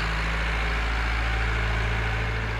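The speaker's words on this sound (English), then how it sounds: "This is the Fendt 1050 Vario." A Fendt 1050 Vario farm tractor engine idles with a steady, loud low-pitched drone that holds an even rumble throughout, with no talk over it.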